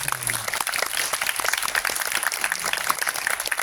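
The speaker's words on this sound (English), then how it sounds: "Shall we give another warm round of applause to Kenneth?" An audience at a film festival screening claps in steady, dense applause throughout, bright and continuous without any talking.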